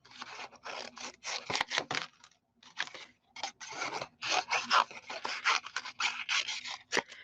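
Scissors cut paper in quick rhythmic bursts of close, crisp slicing and scraping strokes, with short pauses between runs as the paper is fussy cut around a partly die-cut shape.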